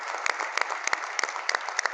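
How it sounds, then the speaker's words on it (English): Applause from an audience at a community organization's 100-year celebration, honoring the board chair and helpers; steady clapping at a moderate distance with sharper individual claps standing out. "let's clap for them"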